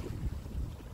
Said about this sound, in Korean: 바람이 굉장히 많이 불어버려요